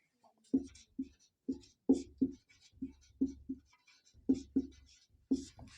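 Strokes and taps on a board come in a steady, rhythmic series as a maths definition is written out during a lesson, each stroke short and close.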